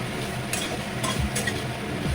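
Soybean chunks fry in a pan with an even, close sizzle, joined by a few light clicks of a utensil against the pan.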